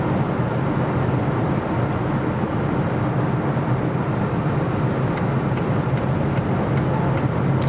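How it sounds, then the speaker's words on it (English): Inside a Volvo C40 Twin Motor cruising at 130 km/h, wind noise and the roar of 21-inch all-season tyres form a steady, even broadband rumble that carries on without a break. "there's more wind noise, and those 21-inch all-season tires do their thing."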